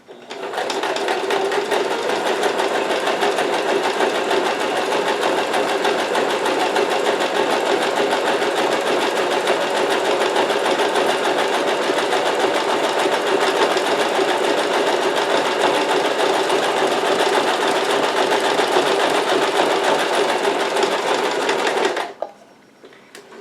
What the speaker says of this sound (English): I'm going to go ahead and sew down this edge to the next corner